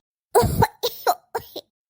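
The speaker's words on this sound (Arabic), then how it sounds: "مالك يا ام العيال بتكح ليه؟" A cartoon woman coughs in three separate bursts: one long, harsh fit followed by two shorter double coughs, all close and loud against silence.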